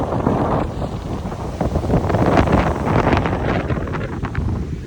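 Strong wind buffets the microphone at Dwarka beach under rainy weather, loud gusty roar with rough waves crashing and surging beneath, continuous throughout with no talking.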